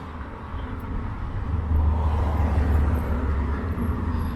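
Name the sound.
old classic Corvette driving past on street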